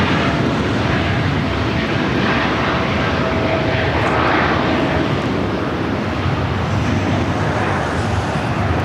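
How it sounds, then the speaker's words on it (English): A Boeing 787 Dreamliner rolls down runway 7 left at LAX in rough weather, a loud, continuous broadband jet roar mixed with wind noise. "the Dreamliner now rolling down at 7 left"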